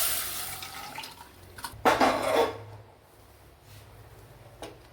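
Cooking water is poured over boiled cucumber and pumpkin in a brief close splash and gurgle, followed by faint drips and clinks.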